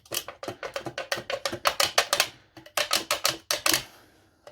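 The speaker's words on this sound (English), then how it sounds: "slice down, obviously being careful not to cut your fingers, slicing down" Scissors or snips cutting down through the thin metal of a tin can, a rapid run of sharp, closely spaced clicking snips, near and crisp, with a short pause midway.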